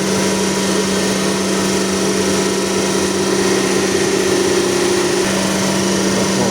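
A grinding machine runs steadily while sharpening a very large steel die, with both faces of the die being ground. The drone stays continuous and loud, with no pauses and no voices.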